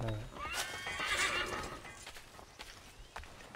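A horse in Assassin's Creed 3 lets out a clear, close whinny, followed by a few hoof clops on the ground as the neigh fades.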